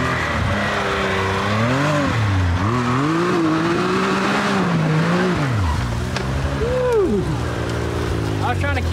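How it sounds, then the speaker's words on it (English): A 2019 Can-Am Maverick X3 Turbo drifts around a tree, its loud, close engine revving and wailing in rising and falling sweeps with a brief tire squeal, while a voice can be heard over the roar. "I was trying to Ken Block it right there, you know, do like a full 180 drift."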